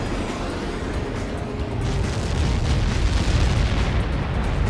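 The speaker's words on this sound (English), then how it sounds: "How many got caught in that explosion?" A Helios projectile impact explosion in the video game Ace Combat 7 produces a loud, sustained broadband roar and rumble that swells slightly partway through, with no voices over it.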